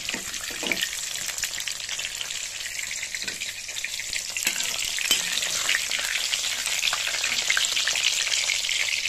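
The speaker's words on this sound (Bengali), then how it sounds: "পটল ভাজাটা হয়ে গেছে, দেখুন লাল লাল করে ভেজে নিয়েছি" Pointed gourd (potol) sizzles and crackles as it fries in oil in a pan, a steady close hiss with occasional stirring scrapes, and no one speaks.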